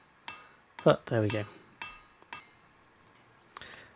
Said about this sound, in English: I'm going to have to spend a little bit more time cross peening than I would have liked